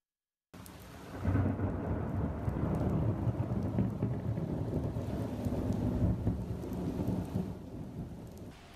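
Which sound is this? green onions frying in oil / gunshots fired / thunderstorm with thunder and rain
thunderstorm with thunder and rain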